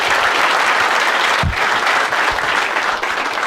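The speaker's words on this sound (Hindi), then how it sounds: "एक बार ताली बजा सब लोग इसके लिए।" Dense, sustained applause from a sizable stand-up comedy audience, loud and continuous throughout with no talking over it.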